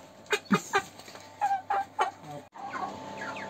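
A broiler hen clucks in a string of short, close calls, then a softer, rougher squawking follows after a brief gap.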